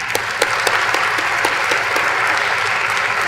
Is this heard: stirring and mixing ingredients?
no